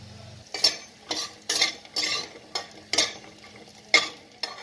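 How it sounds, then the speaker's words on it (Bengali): Lentil dumplings (bori) are fried in oil in a pan. About seven distinct spatula strokes scrape and rattle at a steady rhythm over a faint background sizzle. "কটা বড়ি ভেজে নিচ্ছি"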